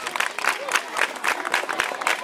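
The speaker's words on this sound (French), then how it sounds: "Applaudissez pour elle, s'il vous plaît." Audience applause at a formal delegation ceremony, with rhythmic bursts of clapping that pulse unevenly, fairly close and loud, with some voices mixed in.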